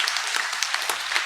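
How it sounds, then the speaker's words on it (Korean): Congregation clapping together in a church during an Easter Sunday service, a steady, dense patter of many hands heard on its own and fairly close. "우리 하나님과 예수님께 한번 감사의 박수로 영광 올려드리겠습니다"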